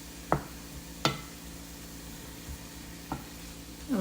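Tofu stir fry sizzles steadily in a hot pan as a soft, even hiss, broken by a few sharp clicks and scrapes from stirring.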